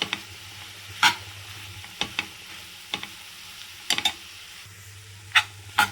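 Carrot curry being stirred after chilli powder goes in, a spoon scraping and clinking against the pan in sharp intermittent strokes over a soft low sizzle, close and without talk.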